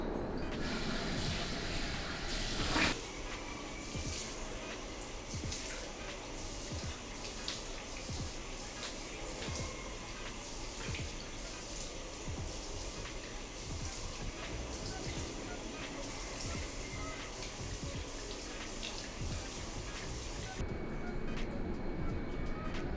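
Water from a sink runs continuously as a face is rinsed, with soft splashing and trickling at moderate distance and faint drips throughout.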